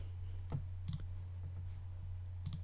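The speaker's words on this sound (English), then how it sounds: "run the program, and just click Run." Several sharp mouse clicks on a computer while installing Java, a few spaced taps standing alone over a steady low electrical hum.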